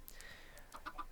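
Chickens at a chicken farm in Minecraft give a few short clucks near the end of a quiet second, soft and close over low background hiss.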